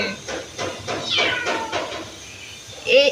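A domestic cat meows several times indoors at home, near and fairly loud, with a rising, breathy call at the end over quiet room noise.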